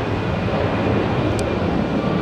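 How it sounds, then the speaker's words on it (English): Jet airliners taking off from runway 4 Left at JFK airport in New York, a steady broadband roar that holds level throughout, heard from a distance with no voices. "Right now we're hearing the takeoffs, 4 lefts."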